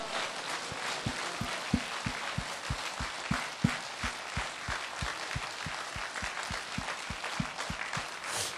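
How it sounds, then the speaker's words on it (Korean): A church congregation at a dawn revival service claps steadily in unison with raised hands, a loud, even beat of sharp claps under a wash of crowd noise, with no talk. "우리가 손들어서 박수치면서 할렐루야로 영광 돌리기를 원합니다"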